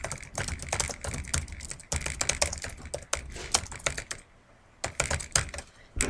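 Typing on a computer keyboard while entering autocorrect text in Word 2013, a dense run of rapid key clicks with a short pause near the end before the tapping resumes, close and clear with no talk.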